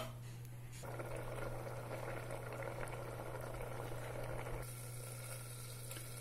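Milk with grated carrot for gajar halwa simmers uncovered in a pan, giving a quiet, continuous bubbling hiss that thickens slightly midway over a low steady hum.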